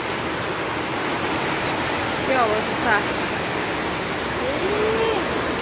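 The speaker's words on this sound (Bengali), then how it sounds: "এবার চলো বাইরে তোমরা বৃষ্টির নমুনা দেখাই। আমি জানলা টালা সব বন্ধ করে দিছি, এত জোরে বৃষ্টি এসে।" Heavy rain pours down outside a house, a dense, steady roar of falling water heard close, with a person speaking briefly over it.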